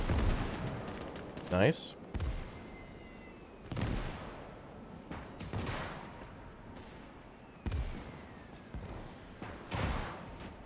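Bursts of machine-gun fire and single gunshots crack and echo across a WWII Iwo Jima battle in a video game, loud volleys spaced every couple of seconds, with someone briefly speaking between them.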